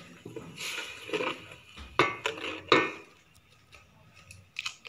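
Tomato paste goes into a cooking pot of browned onion, garlic and ginger while making kalay channay, giving a few clanks of metal utensil against the pot with soft scraping and sizzling between them, close and fairly quiet.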